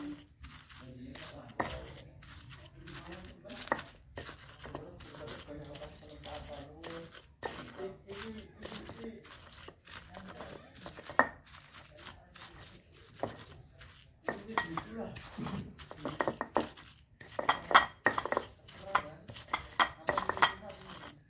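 Shallots and chili are ground in a mortar and pestle while making terong kentang balado, giving irregular clinks and scraping knocks at close range, growing busier and louder toward the end, with a voice talking in between.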